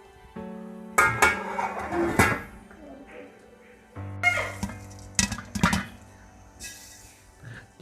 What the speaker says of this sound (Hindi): पॉपकॉर्न हमारे बनना तैयार हो चुके हैं। देखिए कैसे आवाज़ आना शुरू हो गई है बर्तन में से।